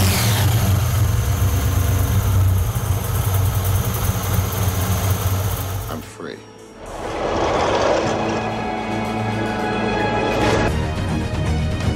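A parked car from the Fast and Furious films idles with a deep, steady rumble, loud and close; the engine note briefly dips and changes about halfway through, then settles into a smooth idle again.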